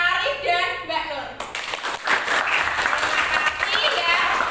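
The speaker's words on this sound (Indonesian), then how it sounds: "tepuk tangan untuk Mas Arif dan Mbak Nur." A classroom of students applauds with steady, dense hand clapping, preceded briefly by a voice and continuing loudly alone for several seconds.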